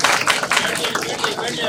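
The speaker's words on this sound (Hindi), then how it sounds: "आप सभी लोग तालियां बजाकर मुख्य विकास अधिकारी महोदय का स्वागत करें।" An assembly hall audience claps in welcome for the chief development officer, a brief burst of dense, close applause with some voices underneath.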